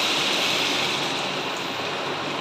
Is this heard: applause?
no